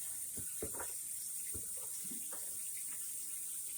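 Tap water running steadily from a kitchen faucet into a sink while cabbage soup is made, a constant faint hiss with small splashes and clinks of dishes in it, and no talking.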